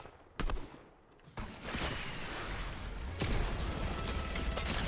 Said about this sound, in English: Oh no, he has a spammy gun.